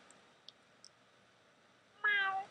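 A Minecraft cat from a cat mod gives a single clear meow at moderate volume, rising out of faint background hiss with a few soft clicks earlier.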